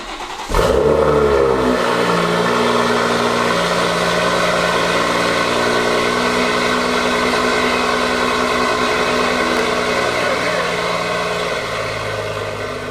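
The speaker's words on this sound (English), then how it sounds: "So the downpipe is now fitted, and this is going to be the first start up, and this is definitely cold" A BMW M140i with a newly fitted downpipe fires up from cold with a sharp roar, then settles into a loud, steady, high idle close by, holding for several seconds.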